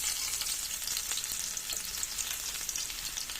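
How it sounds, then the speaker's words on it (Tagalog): Garlic fries in a hot pan for ginisang kamatis, a dense, even, bright sizzle close by that holds steady throughout without any talk. "Nilagay ko na guys ang bawang"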